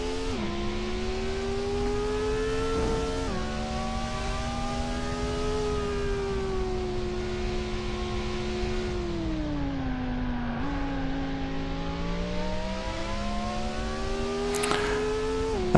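A race car engine in the TORCS racing game holds a continuous high whine, its pitch rising and falling through gear changes, with a brief dip and a sharp shift near the middle, steady and loud throughout.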